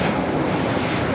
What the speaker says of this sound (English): This is Spirit Airlines 2456 taking off to Dallas Fort Worth on the A320neo.